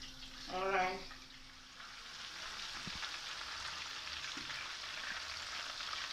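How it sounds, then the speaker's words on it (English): Chicken pieces frying in hot oil for a KFC-style recipe give a steady, close sizzling hiss that holds for several seconds, with a brief voice near the start. "So the chicken is nearly done frying."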